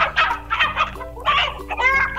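A voice imitates a hen clucking, giving several quick, bright, close-up clucks in a choppy rhythm with short gaps between them.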